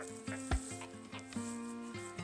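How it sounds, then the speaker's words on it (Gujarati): Mustard seeds and cumin sizzle and crackle in hot oil for tempering a potato vegetable dish, a close, steady frying hiss broken by sharp little pops. "આપણે આ સરસ રીતે શાકનો વઘાર થઈ ગયો છે. રાઈ, જીરું, વઘાણી"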